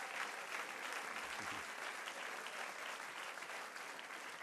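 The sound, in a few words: applause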